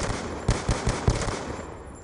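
Video game gunfire in a shooter match: a quick burst of four sharp shots within about a second, moderately loud over a steady background din, no talking.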